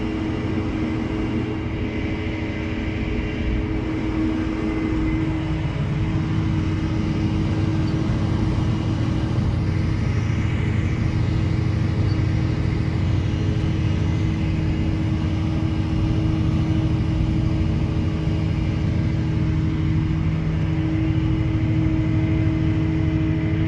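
Tractor plowing a cotton field overgrown with pigweeds, a steady loud diesel engine drone with a low harmonic hum running unbroken throughout, close and continuous with no talking.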